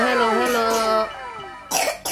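A young child coughs a few times, short harsh bursts near the end following voiced sounds, close and fairly loud in a quiet room.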